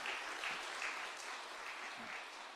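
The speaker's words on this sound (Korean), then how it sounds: "박수 한번 쳐주세요." Congregation applauding inside a church during a Sunday worship service, steady sustained clapping throughout at moderate level with no talk over it.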